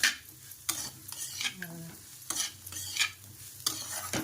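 A spoon stirs and scrapes spiced potatoes in a pan in repeated close strokes over a soft sizzle of frying, with a brief clink of utensil on metal and no speech.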